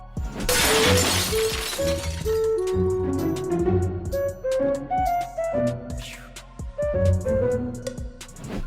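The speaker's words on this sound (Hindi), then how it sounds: "इस लड़की ने ऐसा क्या किया जो ये शीशा ही टूट गया।" A pane of glass shatters in one loud, sudden crash near the start, caught on a home CCTV camera where a girl drops a pizza taken from an oven. Music then plays over the rest, with scattered small clinks.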